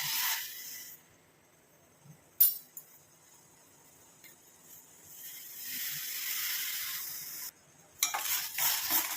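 Tea powder and amla powder decoction boiling in a pot while being stirred, a soft bubbling hiss with a few sharp clinks of a spoon against the metal.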